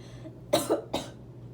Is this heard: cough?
yes